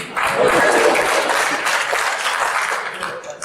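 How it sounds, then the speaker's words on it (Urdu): Audience at a dastangoi storytelling event bursts into loud, dense applause that swells quickly and holds for a few seconds before tapering off. "بجا لیجیے تالیاں"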